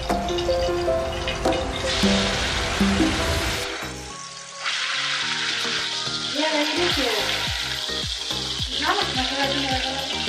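Vegetables for fried rice fry and sizzle in hot oil over high heat, a loud steady hiss running throughout, briefly dipping midway as they are stirred, with scraping and clattering of the utensil in the pan.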